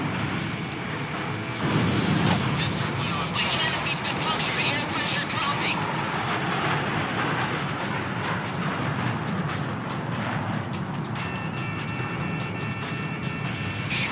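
An F-16 in Ace Combat 6 roars steadily, with a sharp, loud missile-launch whoosh bursting out about two seconds in before the engine drone carries on.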